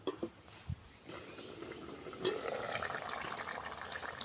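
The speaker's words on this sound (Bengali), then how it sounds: "দেখুন বন্ধুরা বলক উঠে গেছে" A pot of silver carp curry with vegetable stalks and pointed gourd comes to a boil, giving a steady bubbling hiss that swells partway through and holds at moderate volume with no voices.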